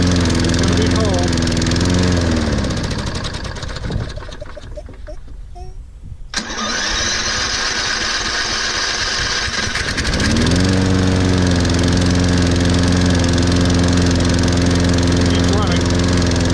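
A Toro Recycler lawn mower cold starts: a loud running engine with a steady harmonic drone, a brief stall and quiet gap, then it fires back up and runs strongly, close by.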